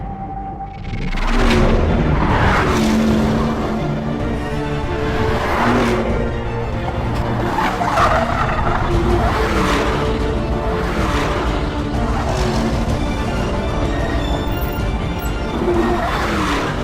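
A 2018 Porsche Panamera production car on road tires is driven fast around a racetrack, a loud, continuous engine roar with rising and falling revs and tire noise, close and sustained without speech.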